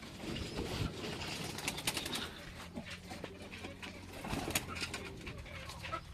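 Racing pigeons coo softly in a loft, with repeated low murmuring calls, occasional wing flutters and clicks against quiet background noise.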